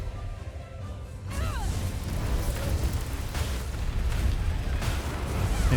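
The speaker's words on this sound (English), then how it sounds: "she's gonna explode, so we'll just wait for her to do that" An explosion in the video game Code Vein bursts in loudly after a quiet moment, then rolls on as a dense, sustained rumble with crackling debris right to the end.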